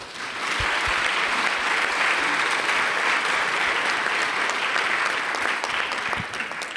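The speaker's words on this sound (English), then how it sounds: "join me in offering a huge round of applause for all of our panelists here today" A conference audience at a UNESCO education summit session gives the panelists a sustained round of applause, even and full-bodied from start to finish, with no talk.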